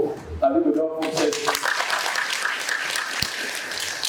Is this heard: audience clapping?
yes